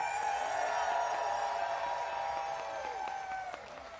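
A huge crowd at a rally in Washington, DC applauds and cheers, a dense continuous roar of clapping and voices that fades slightly toward the end.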